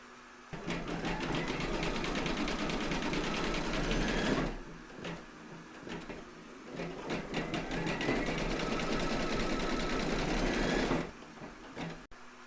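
An embroidery machine stitches eyes in blue thread on a scalloped-edge baby quilt block. Its rapid, steady mechanical whir runs in two long passes with a brief pause between, close and fairly loud, with no talking.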